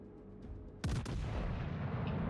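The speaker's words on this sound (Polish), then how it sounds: "Poszła salwa w kierunku Wizbiego" A warship's salvo fires in a naval battle video game, a sudden loud boom with a second crack right after, then a rumbling tail that lingers.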